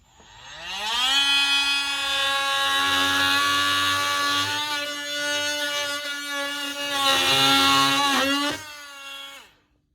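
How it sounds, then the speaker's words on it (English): Oscillating saw cutting into a rotted wooden door frame, a steady high-pitched buzzing whine that rises in pitch as it speeds up, runs loud and close for about seven seconds with slight load changes, then winds down and stops. "oscillating saw"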